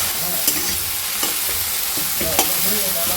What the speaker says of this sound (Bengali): ভেন্ডি আলু ভাজাটা দেখি কত দূর হলো।